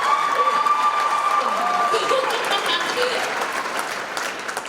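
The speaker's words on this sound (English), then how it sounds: "let's give her a round of applause." An audience applauds at the 2020 Miss Kenosha scholarship pageant, steady dense clapping filling the hall for several seconds, with scattered voices and light cheering mixed in.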